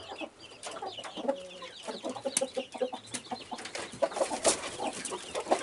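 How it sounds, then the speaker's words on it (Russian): Chickens cluck and chatter indoors while pecking at festive eggshells, a busy overlapping flock close by with sharp pecks and scratching throughout. "как куры будут кушать в помещении скорлупу"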